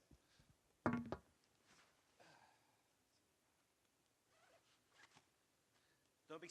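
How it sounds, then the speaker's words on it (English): A stuck zipper on a bag is tugged in short, rough bursts, with one loud close rasp followed by fainter scrapes and jerks, among quiet room noise. "Zipper's stuck on both of these things."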